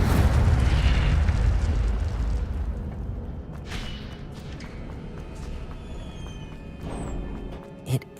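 An Incendio fire spell cast in the Hogwarts Legacy video game lets out a loud whooshing fiery burst that fades into a rumbling crackle, with a small pop near the end.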